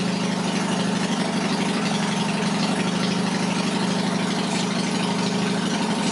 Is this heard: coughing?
no